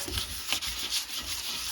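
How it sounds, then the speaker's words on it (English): Steady, close scratchy rubbing of sandpaper on wood by hand, a preliminary sanding of a wooden pen drying rack, continuous strokes back and forth with no talking. "do a kind of a preliminary sand to loosen up some of these chunks"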